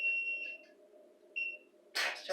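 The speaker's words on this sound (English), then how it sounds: "Let's turn my timer off." A kitchen timer beeps in short high electronic bursts, with two separate beep runs, while hot peppers are packed into tiny jars for preserving; a louder clattering noise follows near the end.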